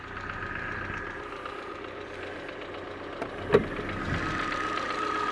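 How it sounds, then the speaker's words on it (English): A 1995 Fiat Punto 55SX with its 1.1 litre, 1108cc engine idles smoothly and steadily up close, a low even hum broken by one brief click. "So very, very smooth engine."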